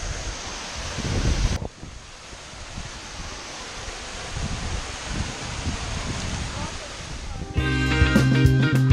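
Waterfall at Capão da Onça in Ponta Grossa, a steady broadband rush of falling water close by, with a brief louder burst at the start and clattering, busier noise near the end.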